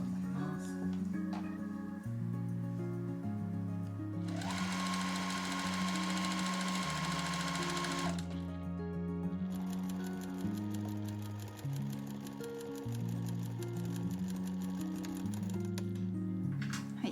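A sewing machine whirs in a few-second burst of stitching along the edge of a fabric shoulder strap for a camisole dress, followed by a quieter, steadier run, all under continuous background music.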